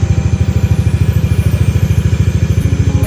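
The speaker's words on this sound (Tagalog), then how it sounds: "pinapainit natin yung makina niyan." A motorcycle engine warms up at a steady idle, a loud, close, rapid even chugging pulse with a faint clatter and no talking.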